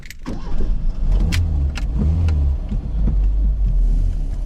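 A small Fiat four-cylinder engine in a 1977 Autobianchi A112 cranks and catches, then settles into a steady, rumbling idle with a few sharp mechanical clicks on top.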